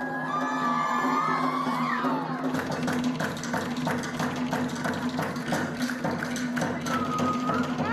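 A live crowd at the Heiva I Paris 2018 Polynesian dance show cheers and shouts continuously, with whoops, clapping and rhythmic drumming beneath the roar.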